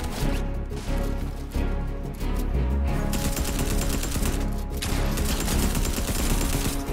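Gunfire from a shooter video game, a dense, steady stream of shots and impacts running loud and continuous throughout, layered with busy game effects and no pauses.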